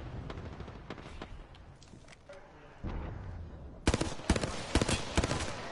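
Gunfire in the Apex Legends video game, first a scattered run of shots under faint background talk, then a louder burst of rapid, close automatic fire in the final two seconds.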